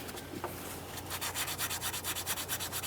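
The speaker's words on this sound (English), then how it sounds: "I'm just going to give this a quick scuff on both sides" The end of a shift cable for a 2007-2013 Acura MDX neutral safety switch job gets a quick scuff with abrasive, giving close rhythmic back-and-forth rasping strokes, about a dozen in quick succession.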